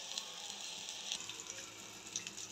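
Washed buffalo-milk butter heating into ghee in a pan, a faint, continuous crackle and hiss with scattered small pops throughout.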